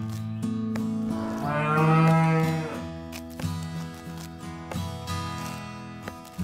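A cow moos on a farm: one long, deep, rising and falling low, followed by steady farmyard background sound with a few thumps, fairly close and loud, with no talk.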